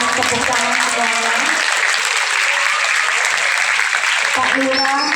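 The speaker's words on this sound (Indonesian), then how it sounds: "ini orangnya kita berikan tepuk tangan semuanya" Students at an Indonesian high school event (SMAN 92 Jakarta Utara) clap loudly and steadily throughout, with voices talking over the applause at the start and end.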